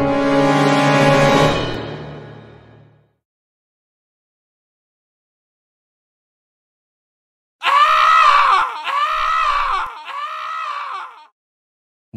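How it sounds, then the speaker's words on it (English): A loud scream rings out and fades, then after a long silence a series of three shorter, harsh wailing cries follows in close succession, with no talk. "It sounded like someone screamed really loudly."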